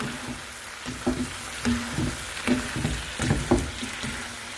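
Chopped garlic frying in a pan for pepper chicken, a low sizzle broken by repeated soft scrapes and thumps as it is slowly stirred, close and moderately loud.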